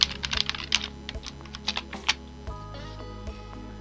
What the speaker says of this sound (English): Type in the word revision.